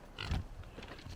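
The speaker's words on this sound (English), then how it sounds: "there's some pigs." Pigs grunting outdoors on a walking route from Ollantaytambo toward Machu Picchu in Peru, a few short, low snorts close by over faint ambient noise.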